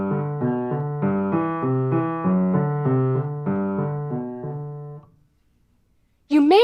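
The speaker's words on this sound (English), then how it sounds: "The third type of accompaniment pattern that I'd like to introduce today is called the Alberti bass." A piano plays an Alberti bass accompaniment, a repeating low-middle-high-middle broken-chord figure in steady even notes, clear and close for about five seconds before stopping; a voice starts speaking at the very end.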